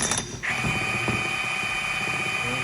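Socket ratchet turning the transmission shaft on a John Deere D1 hydrostatic conversion, a steady fast run of small mechanical clicks after a brief scrape, close and moderately loud.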